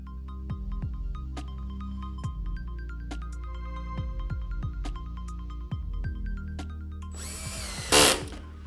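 A power drill driving self-drilling screws into a metal CPU holder, a steady motor hum with repeated clicking and ratcheting as each screw bites, ending in a brief loud burst near the close; no one speaks.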